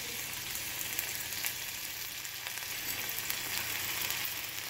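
Ginger garlic paste fries in oil in a pan, giving a steady, even sizzle that runs continuously at moderate volume with no talk over it.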